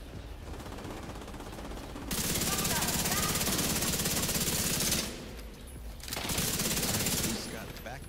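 Rapid video-game gunfire bursts, dense and loud, in two long volleys with a brief lull between, over mechanical game noise, with players talking excitedly throughout.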